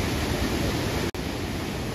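Loud, constant roar of rushing water, dense and unbroken apart from a momentary cut near the middle.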